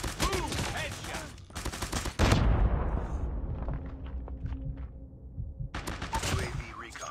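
Gunfire in Call of Duty Mobile, rapid bursts of shots at the start, then a heavy impact with a decaying rumble, followed by more quick firing near the end.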